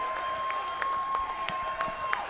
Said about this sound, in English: a round of applause for a hard-fought main event here at Pinnacle Fighting Championships